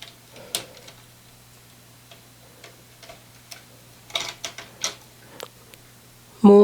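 An LK150 knitting machine has its stitches moved with a 3-prong transfer tool, producing sparse light metallic ticks and clicks, scattered at first and then clustering into quicker taps, close up and quiet with no talk.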